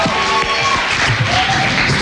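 Applause from a concert audience for a live band, a dense, steady wash of many hands clapping that fills the whole moment, with music still ringing faintly beneath it.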